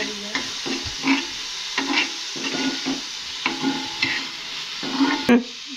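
Onion roasting in a pan until it turns red, stirred repeatedly: steady close sizzling with rhythmic scraping strokes of a spoon against the pan, one sharper clack near the end.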